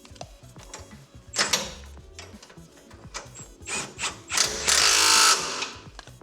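A ratchet wrench tightening a bolt on a car's back axle suspension in a garage, with rapid clicking bursts that build to a loud, sustained grinding stretch near the end.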